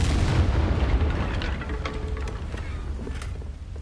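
A Confringo blasting spell detonates in Hogwarts Legacy, a heavy booming explosion with a dense low rumble that hits loudly at the start and slowly tails off.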